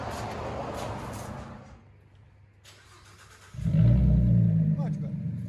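A 2016 Ford Mustang V6 with straight-pipe dual exhaust rumbles at idle, then fires into a deep, loud rev that swells near the end, with people talking over the quieter first part.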